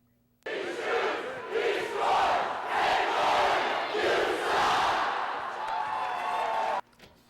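A rowdy sold-out crowd at a Utah State versus BYU college hockey game roars and chants loudly and continuously for several seconds, a dense wall of massed voices that cuts off abruptly.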